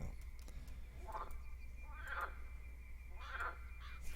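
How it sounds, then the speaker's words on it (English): A leopard frog croaks in the Fishing Planet fishing game: three raspy calls roughly a second apart, heard faintly over a low steady ambient hum. "Not a tree frog, maybe a leopard frog. Doesn't sound like a bullfrog."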